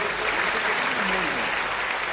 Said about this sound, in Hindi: दोनों हाथ उठा के आगे से पीछे तक ताली बजा के मुझे शुरू करना